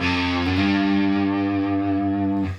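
A distorted electric guitar note slides slowly upward and holds with a wavering vibrato, loud and sustained, then cuts off.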